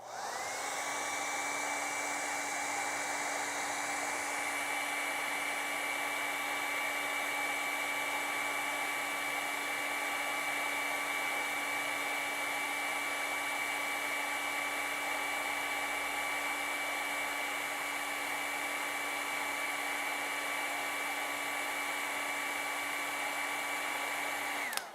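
A hair dryer blows steadily on wet acrylic paint, a loud, continuous whirring roar with a high motor whine, running unbroken for nearly half a minute with a slight shift in tone early on.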